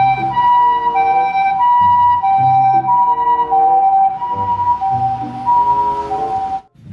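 A toy ambulance plays its electronic siren, a loud, close two-tone wail repeating in a steady cycle before cutting off abruptly near the end.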